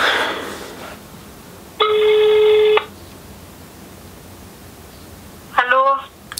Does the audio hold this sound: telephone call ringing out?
yes